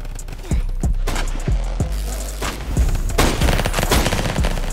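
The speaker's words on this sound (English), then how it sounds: "Bro, tell me why I was just shooting my minigun like it was a shotgun" A minigun fires in a Roblox Flag Wars match as several separate punchy shots spaced apart like shotgun blasts, then denser close bursts near the end.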